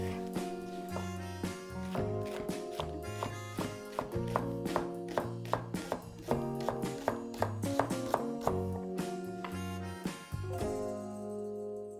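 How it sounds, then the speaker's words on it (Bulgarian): A knife chops leek on a cutting board in a home kitchen, a steady run of crisp taps under prominent background music. "Сега наситнявам праз лук."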